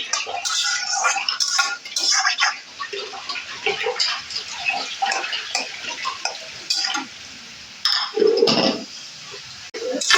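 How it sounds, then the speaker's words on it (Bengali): Potato slices fry in oil over lowered heat, with crackling sizzle and clinks and scrapes of a spatula or utensil against the pan, close and continuous, with no talking. "দেখুন কি সুন্দর করে আলু ভাজাটা হচ্ছে"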